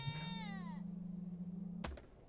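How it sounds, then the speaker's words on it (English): Goat bleating in a video game, Airport Renovator; one long, loud, wavering bleat close up, followed by a short thump, with no talk. "Don't eat it, you freaking goat."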